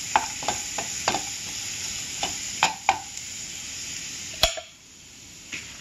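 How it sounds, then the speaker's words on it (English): Garlic sizzles steadily in a hot pan as a bright constant hiss, broken by sharp scraping clicks of a utensil stirring it, then the sizzle drops away near the end. "Let's cook the garlic first."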